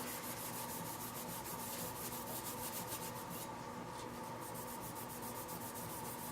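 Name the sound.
scrubbing a backplate surface clean before painting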